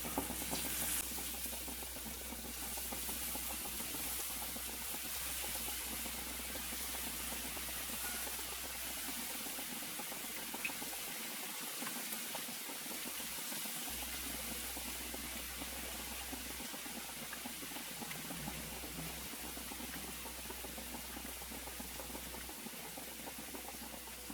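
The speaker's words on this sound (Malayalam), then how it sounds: "ഇതിലേക്ക് നമുക്ക് ചിക്കൻ പീസസ് ഓരോന്നായി ഇട്ടിട്ട് ഫ്രൈ ചെയ്തെടുക്കാം" Chicken pieces frying one by one in well-heated oil for chilli chicken, a steady broadband sizzle that runs close and constant throughout with no talking.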